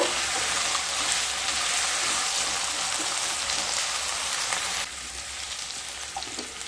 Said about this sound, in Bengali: আলু আর গাজর হালকা ভাজা হয়ে গেলে এবার ফুলকপিগুলোকে দিয়ে দেব ফুলকপি দিয়ে আবারও খুব ভালো করে ভেজে নেব